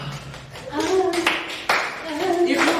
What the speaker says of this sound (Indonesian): Tepuk tangan untuk Ibnu